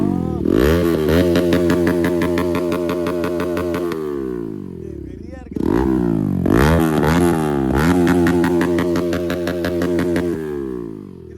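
A motorcycle fitted with an Akrapovic aftermarket exhaust, apparently a 200 to 400 cc Duke or Bajaj, revs loudly and close in two long sweeps. Its harsh, rising engine note builds, then drops back, with a brief lull between the runs.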